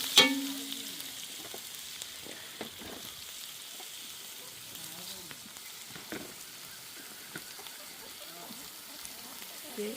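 Curry leaves sautéing in hot oil, a steady low sizzle and crackle that starts with a brief louder burst, then continues softly and evenly over ten seconds.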